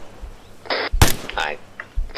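Gunfire in ArmA 3 during a military exercise: a few sharp cracks, one especially loud close shot near the middle, scattered among radio chatter and talking voices.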